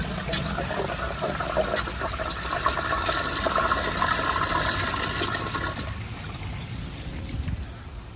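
A Kohler Kingston toilet flushing with a 1.6 gallon flush: a loud gushing rush of water that swirls and drains, then eases into a quieter trickle and tank refill toward the end, heard up close with no talking.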